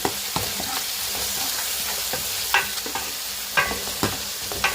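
Ginger garlic paste frying in a pan gives a constant close sizzle, with light clicks of stirring and a few louder scrapes toward the end, and no voices.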